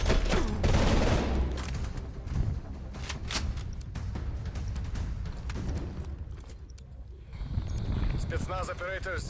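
Rapid bursts of gunfire in the Call of Duty Cold War video game, dense and loud with explosive crackle, overlapped by game dialogue and a player talking.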